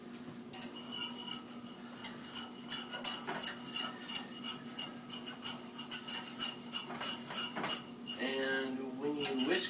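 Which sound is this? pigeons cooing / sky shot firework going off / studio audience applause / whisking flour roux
whisking flour roux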